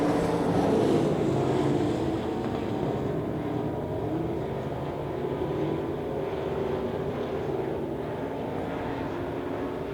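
Limited modified race cars in a heat race at Devil's Bowl Speedway, a continuous distant roar of engines from the pack circling the track, steady and fairly loud throughout.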